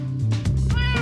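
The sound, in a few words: ocelot cat meowing in a video game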